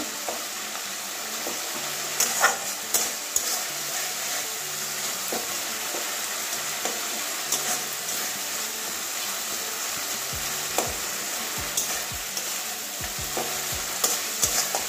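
Spice paste for a katla fish curry fries in oil with a steady, close sizzle, broken by repeated scraping stirs of a spatula against the pan.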